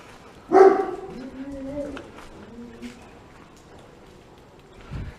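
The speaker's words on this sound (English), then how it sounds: "I just seen a dog in there" A dog behind a fence at an apparently closed-down drug factory, seemingly a guard dog, gives one sharp bark followed by a lower growl, close by, with a voice in the background.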